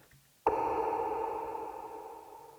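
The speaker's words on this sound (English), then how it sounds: "this other kind of filtered reverby hit." A filtered, reverb-soaked hit layered in a pop production: one sharp attack after a brief quiet moment, then a dense mid-range ringing tail that slowly decays over two seconds, no voices.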